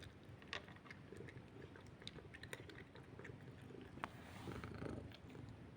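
A cat purrs very faintly and close, a soft continuous rumble mixed with small clicking and chewing-like noises throughout.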